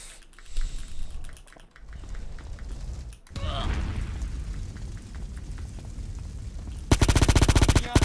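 Gunfire in GTA San Andreas, scattered shots and bursts early on, then a rapid, loud automatic volley near the end, with a player's voice faintly underneath.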